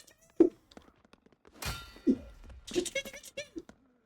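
Blows to an enemy's head in the brawler game Paint The Town Red, several sharp thunks and clangs spaced over a few seconds, with a voice shouting among them.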